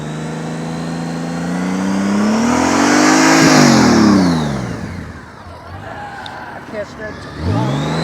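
A motorcycle engine is held on the throttle during slow-speed riding practice, a loud revving drone that climbs and falls in pitch, fades, then picks up again near the end.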